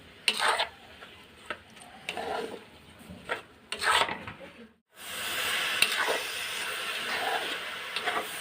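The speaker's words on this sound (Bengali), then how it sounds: "এবার নেড়ে করে নারকেলের পুরটা বানিয়ে নিব" Grated coconut filling for sweet pitha is stirred in a pan, rhythmic scraping strokes of a spatula, then a sudden steady sizzle takes over partway through; no talking.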